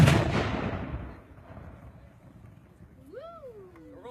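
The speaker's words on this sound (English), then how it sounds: "We're going to fire off one more shot for you here" A historic cannon fires once in a demonstration at Fort Loudon, giving a loud boom at the start that rolls off and fades over a second or two, followed by quiet outdoor ambience and a faint, rising whine.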